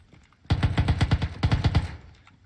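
Automatic rifle fire in PUBG (PlayerUnknown's Battlegrounds): two loud, close bursts of rapid shots separated by a brief pause, with no talk over them.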